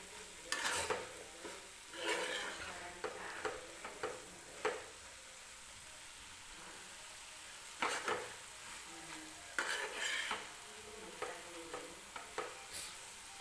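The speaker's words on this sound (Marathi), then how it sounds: "मी थोडीशी कोथिंबीर टाकते वरून आणि परत एकदा भाजी मिक्स करून घेऊया" Cabbage stir-fry with coriander is mixed in a pan with a spatula. Faint, irregular scraping strokes come in short bursts over a soft background sizzle, with quiet pauses between them.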